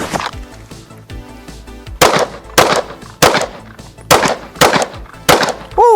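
Glock pistol fired at a shooting range, a string of about seven loud, sharp reports in quick uneven succession, each close and cracking, ending with a ringing metallic tone.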